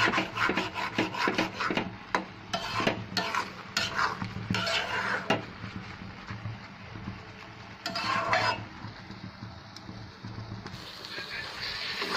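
Goat brain frying with sliced green chilies is stirred in a pan, producing repeated close scraping and rasping strokes of a utensil against the pan over a faint sizzle.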